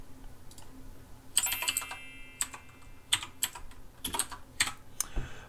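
Someone types a login ID and password on a computer keyboard, producing close, crisp key clicks in irregular bursts and short pauses over a faint background hum.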